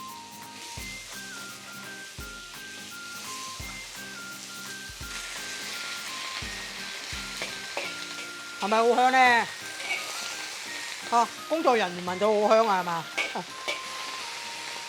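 Baby cabbage being stir-fried in a wok for a Shanghai-style creamed cabbage dish, a steady low sizzle running throughout with a brief clatter at the start, while people talk over the cooking.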